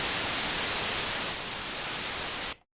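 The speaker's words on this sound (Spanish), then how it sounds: "El ruido blanco es aquel sonido que en teoría contiene absolutamente todas las frecuencias a la misma potencia" A synthesizer oscillator puts out loud, steady white noise, a flat even hiss that holds for about two and a half seconds and then cuts off abruptly.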